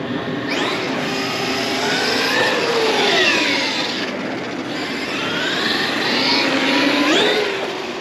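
A Traxxas Xmaxx RC monster truck with an upgraded wide kit and Max6 ESC drives around a park, its electric motor whining loudly in rising and falling sweeps as it speeds up and slows down.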